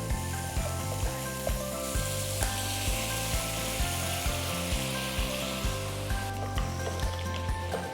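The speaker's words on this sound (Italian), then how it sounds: "Sfumiamo con del vino bianco" Prawns and squid sizzle steadily in a hot pan as white wine is added to deglaze, a dense continuous frying hiss with a regular clicking pulse running beneath it, with no talk.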